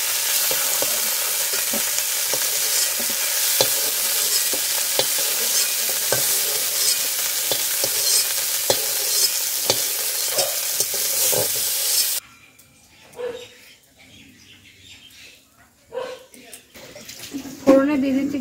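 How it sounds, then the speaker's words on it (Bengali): Cauliflower florets sizzle loudly and steadily in hot oil for a korma. After about twelve seconds the frying drops away, leaving a quiet pan with occasional soft clatters. "কপিগুলো ভাজা ভাজা হয়ে গিয়েছে"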